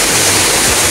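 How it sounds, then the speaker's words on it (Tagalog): Water pours down Burong Falls in Bulacan in a steady, dense roar that stays constant and close, with no voices over it. "Napakagandang Burong Falls."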